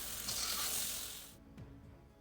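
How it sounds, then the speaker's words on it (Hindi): Okra (bhindi) frying in masala over a medium-high flame gives a loud, close hissing sizzle that cuts off abruptly partway, leaving a quieter pan and a faint stir. "तो मीडियम टू हाई फ्लेम पर मैं भिंडी को फ्राई करूँगी अच्छी तरह से"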